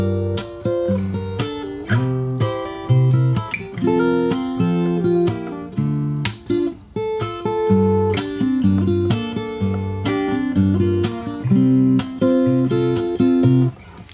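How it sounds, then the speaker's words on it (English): Solo acoustic guitar played fingerstyle runs through the second part of the first verse of a song, mixing low bass notes, plucked chords and crisp slap hits in a steady groove. "Alright, so this is going to be the second part of the first verse."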